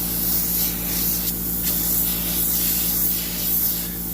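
Continuous close hiss of a spray paint can being pulled along a tumbler to make elongated lines, steady with slight swells, under a low background hum.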